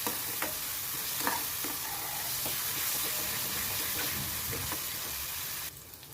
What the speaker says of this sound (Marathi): ते तेलामध्ये चांगलं तेल सुटेपर्यंत भाजायचं आहे त्याला